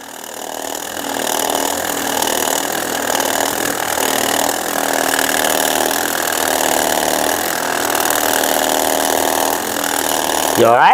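A percussion massage gun gives a steady mechanical buzzing drone with a pulsing rhythm, running continuously and close by, with a brief spoken question near the end.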